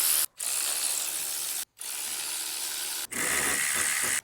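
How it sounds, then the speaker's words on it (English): A ratchet turns a wobble spark plug socket to remove truck spark plugs, giving close, loud, continuous ratcheting in three long runs separated by brief pauses. "Having a wobble spark plug socket is super helpful."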